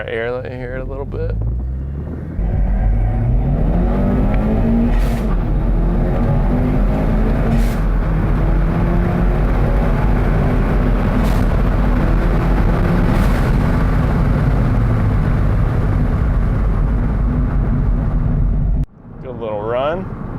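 A Ford Focus ST with a modified exhaust revs up and accelerates hard, a loud sustained engine drone with rising pitch and wind rush for most of the run, a voice briefly heard at the start and end.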